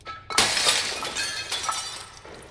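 Glass shattering in the video game Little Nightmares II, one sudden loud crash followed by a spray of tinkling shards that fades over about two seconds.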